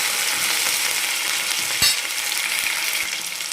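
Mustard seeds, cumin and curry leaves crackle and sizzle loudly in hot oil for a gram-flour poori curry. A close, continuous fry runs throughout, with a single clunk of stirring midway and soft taps after it.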